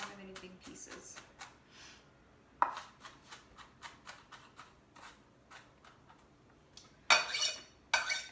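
Onion being run through a chopper again for meatballs, giving a series of quick clattering chops and plastic-and-blade knocks in irregular bursts, with a couple of louder rattling clunks near the end.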